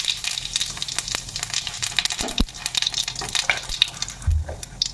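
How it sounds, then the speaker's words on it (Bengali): Cumin seeds crackle and sizzle in hot mustard oil, a dense, steady frying hiss with scattered pops and a few stirring knocks, close and fairly loud, with no talking. "তেল গরম হয়ে গেছে, দিয়ে লেতেছি এই যে একটু জিরা দিছি"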